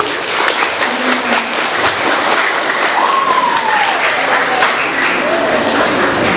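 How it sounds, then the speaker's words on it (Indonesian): Sustained, loud audience applause at a junior high school student council (OSIS) chair and vice-chair debate, a dense wash of hands clapping with faint tonal whistles or voices rising through it. "Beri tepuk tangan lagi agar lebih semangat ini."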